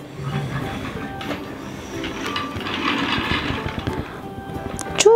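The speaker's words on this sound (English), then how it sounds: "Okay, this is the Peppa Pig train." Peppa Pig toy push-along train rolling on a surface with rattling, clattering wheel noise, fairly close, ending in a brief bright squeak; no talking.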